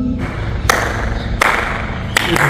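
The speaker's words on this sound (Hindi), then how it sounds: "ताली की अलग आवाज है," Sharp hand claps ring out inside Akbar's tomb at Sikandra, three loud strikes spaced under a second apart, each leaving a reverberant echo that hangs in the stone chamber.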